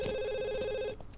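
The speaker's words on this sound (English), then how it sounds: "Better answer this phone, I suppose." A telephone rings in The Sims 2 with a steady electronic trill rich in overtones for about a second, loud and alone, then cuts off into quiet room ambience.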